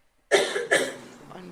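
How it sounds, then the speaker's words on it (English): Two close coughs at a gang trial courtroom hearing, the first sharp and loud, the second a moment later, both trailing into faint room noise, with no talk. "I don't see anybody coughing, but the microphone picked it up."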